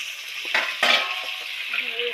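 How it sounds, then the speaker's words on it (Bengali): Red potatoes and ordinary potatoes stirred in a hot frying pan give bright sizzling hiss with a couple of sharp scrape-and-clink bursts from the spatula, close and alone over about two seconds. "এবার লাল আলু আর এমনি আলুগুলো দিয়ে দিলাম, দিয়ে নেড়ে চেড়ে দিলাম।"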